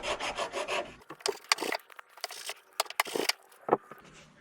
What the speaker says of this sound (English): Let's take the sanding block and just kind of sand it off